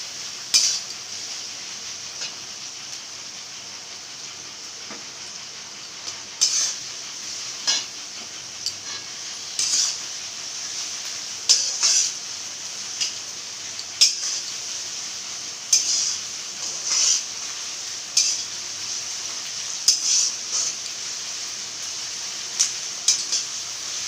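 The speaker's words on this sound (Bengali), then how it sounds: "ফোড়ন দেওয়া তেলের মধ্যেই লাল লাল করে আমরা পেঁয়াজ কুচিটা ভেজে নেব।" Chopped onion frying until reddish-brown in spice-tempered oil for a chicken curry, a steady soft sizzle with repeated clinks and scrapes of a spoon stirring in the pan.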